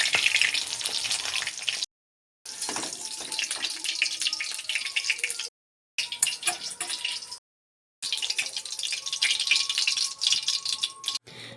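Pointed gourd (potol) fries in hot oil with a busy, rattling sizzle, broken by a few short silent gaps.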